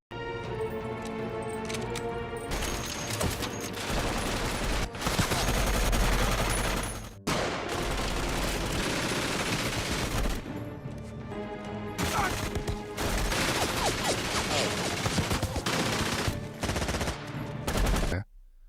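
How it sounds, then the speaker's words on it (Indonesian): Dense automatic gunfire fills a war film battle scene, with rapid bursts of shots and crashes layered over a loud, continuous mix that runs almost the whole time. "William merampas senjata otomatis untuk melawan ratusan penjaga"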